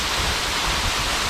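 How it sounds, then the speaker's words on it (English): A rushing waterfall in Colombia roars as dense, steady broadband noise, close and constant with no voices over it. "over the sound of this waterfall"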